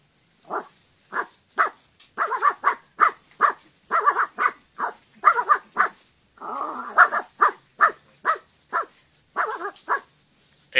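A voice imitates a Pekingese dog, giving a rapid series of sharp, yappy barks with brief growly stretches, close and fairly loud, with no other talk.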